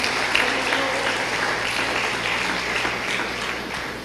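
A church congregation claps together in steady applause, loudest at the start and gently fading toward the end, with a faint low hum in the room beneath it.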